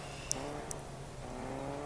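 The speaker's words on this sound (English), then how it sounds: "I heard a car." A car engine hums faintly in the distance inside a battle royale shooter game, a low steady drone under a couple of small clicks, with no talking.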